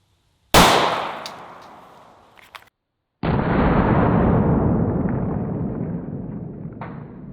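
Two loud gunshots from a Sig pistol firing 147 grain rounds: a sharp crack at the start with a long decaying echo, then a second blast whose broad roar sustains for several seconds, close and alone without talk.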